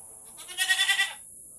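A single goat bleats once, a short wavering cry close by against a quiet background.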